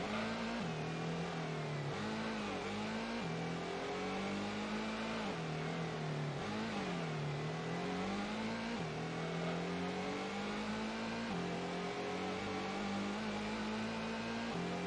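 A car engine in Gran Turismo 1 holds a steady, loud drone whose pitch rises and dips with throttle and gear changes throughout, continuous and close with no voices on top.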